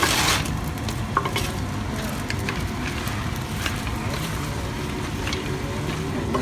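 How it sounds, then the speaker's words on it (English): Almonds stirred in melted butter in a pan, a continuous soft sizzle with scraping and clinking from the spoon, close and steady, without talk. "I'll take over stirring from Lexi, and she'll go chop the walnuts"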